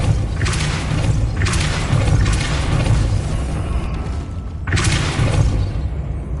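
Depulso spell cast in the video game Hogwarts Legacy: loud booming, thudding bursts, repeated about three times with a pause before the last, over a steady low rumble.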